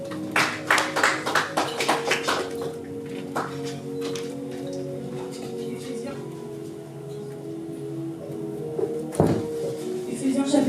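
A church congregation claps in praise of the Lord, a quick run of loud rhythmic claps at the start that fades into a sustained musical drone with a few scattered taps later.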